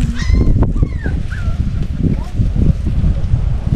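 A loose puppy whimpers and yips outdoors in an African village kitchen garden, with several short high cries near the start over steady wind and background talk.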